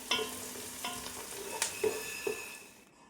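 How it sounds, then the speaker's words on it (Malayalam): Onions and cumin sauté in a pan while a spoon stirs them, giving a soft, low sizzle broken by several light scraping clicks. "നല്ലപോലെ ഇളക്കി സവാള ഒന്ന് വഴന്ന് വരണം"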